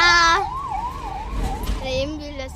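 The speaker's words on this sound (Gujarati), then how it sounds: "એમ્બ્યુલન્સ થઈ ગઈ બોલો" An ambulance siren wails and sweeps past a car being driven to a temple on a Thursday, loud and fairly close, with brief talk at the start and end.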